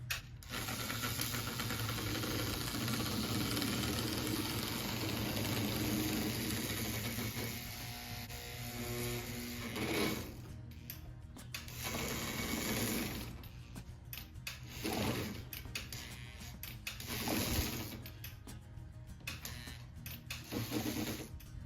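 A vintage toy train locomotive with an early postwar 675-style motor runs steadily, a close whirring mechanical hum with rattling that stops and restarts in short bursts toward the end.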